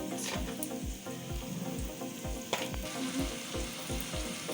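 Fried rice stir-fried in a pan with salt, garlic, ginger powder and curry, sizzling steadily while a utensil scrapes and turns it in a quick repeating rhythm, close up with no talking.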